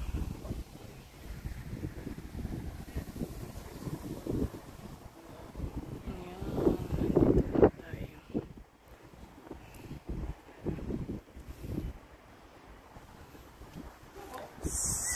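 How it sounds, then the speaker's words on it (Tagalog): Wind gusts buffet the microphone on an open rooftop, rumbling unevenly and swelling midway, with a person talking intermittently over it. "Ayan nga, mahangin kasi, mahangin."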